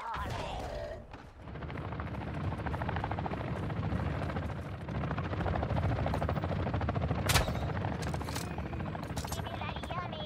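Rapid, sustained gunfire in a video game, a dense and loud stream of shots that barely lets up for the full stretch, with one sharper burst near the end.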